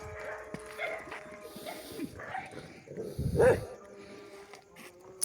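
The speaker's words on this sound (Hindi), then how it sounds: "अब यहाँ पे कुत्ते भी हैं" Dogs whimper and yip on a street in Hyderabad, with a few short, moderately close canine cries and a sharper yelp, while someone talks over them.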